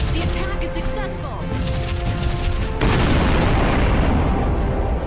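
Kinetic weapons firing at a bomber in the space game Sunrider, a loud burst of blasts that gives way to a dense, sustained roar of impacts over a layer of game music.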